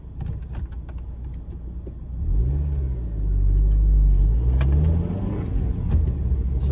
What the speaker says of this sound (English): this is a four-cylinder naturally aspirated car, so yeah, let's just go for a drive